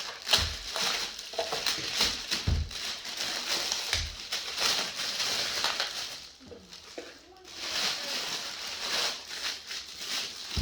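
Packaging comes off a Rockville RPM870 8-channel powered mixer in close, continuous crinkling and rustling of plastic and foam, with occasional soft knocks.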